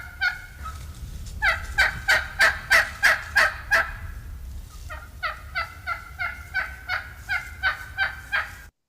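Wild turkey yelps in two runs of repeated, evenly spaced calls, about eight loud ones then a slightly softer series, close to the microphone with no talking.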